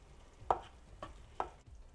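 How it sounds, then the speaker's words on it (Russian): Salted sweet-and-sour borscht vegetables stirred in a frying pan: three distinct scraping strokes about half a second apart, close and fairly quiet, over a faint low background with no talk. "Все размешаю и обжарю буквально 1-2 минуты."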